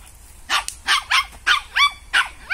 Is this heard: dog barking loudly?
yes